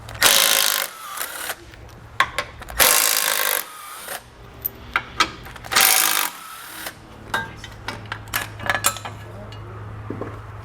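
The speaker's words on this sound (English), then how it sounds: "We'll use a 15mm socket to remove them." Ratcheting and clanking of a 15mm socket wrench taking bolts off the tow hook cover of a 2018 GMC Sierra 1500, with several loud bursts of ratcheting between short taps, metal clicks and quieter pauses.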